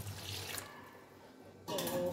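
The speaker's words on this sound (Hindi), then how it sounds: "तकरीबन 8 गिलास जो है ना इसमें पानी डाल लेना आपने" Water pours from a vessel into a yogurt and gram flour mixture for kadhi pakora. A quiet stretch is followed by a louder, steady splashing pour near the end.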